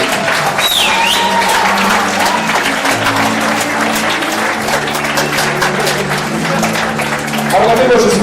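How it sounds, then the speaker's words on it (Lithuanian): Sustained applause from a theatre audience after a film screening at an awards ceremony, dense and loud from start to finish, with murmuring voices underneath the clapping. "Aplodismentai!"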